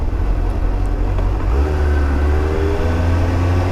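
A Suzuki GSR750 motorcycle accelerates along a bypass, its engine droning loud and close as the pitch climbs steadily through a gear with continuous wind and road rumble.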